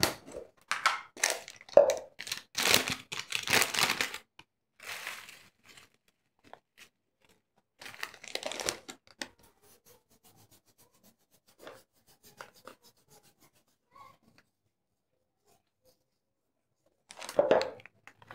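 Dried fenugreek leaves are crushed by hand into simmering chana masala. Close, dry rustling and crumbling comes in short bursts separated by quiet pauses.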